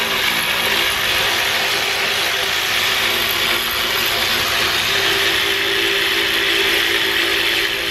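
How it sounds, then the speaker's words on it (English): A ratchet spins out the 10mm bolts holding the throttle body on a BMW N52 engine, making a continuous close mechanical clicking whir at a steady level throughout. "And now I'm going to go ahead and remove the throttle body. It's just held in by four 10mm bolts"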